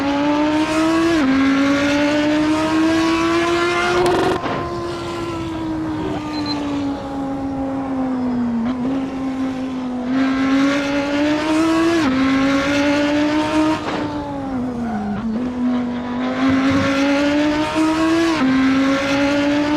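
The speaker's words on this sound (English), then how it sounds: "Gotta love the sound of this vehicle, man." A racing car engine in Assetto Corsa whines continuously, pitch rising and dropping through repeated gear shifts, steady and fairly loud with no voices.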